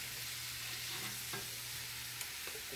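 Chicken fried rice cooks in a pan with a steady, even broadband sizzle and a low hum underneath, a few faint stirring scrapes breaking through near and fairly quiet throughout.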